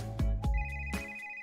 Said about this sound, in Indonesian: Dia langsung mengambil telepon dan menekan angka itu.